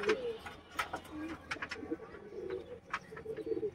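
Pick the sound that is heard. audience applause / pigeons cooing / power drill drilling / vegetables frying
pigeons cooing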